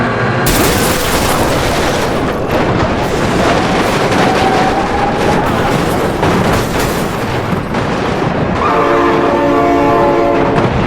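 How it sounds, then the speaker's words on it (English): In the driving game BeamNG.drive, a train rumbles loudly and continuously past at close range, its horn blaring in long harmonic blasts, strongest toward the end, with no talking. "Oh my god, train!"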